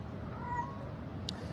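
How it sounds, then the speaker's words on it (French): A cat gives a faint, brief meow as it passes, heard once at a distance over a steady low background hum, with no talking. "Ne vous inquiétez pas, c'est un chat qui passe"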